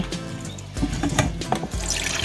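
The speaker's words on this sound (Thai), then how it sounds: "มาล้างให้มันสะอาดอา นะคะ" Water runs steadily from a tap as shellfish (Chinese hat shells, for a spicy Thai koi salad) are rinsed clean in a sink, with a continuous close splashing rush and brief knocks of shells.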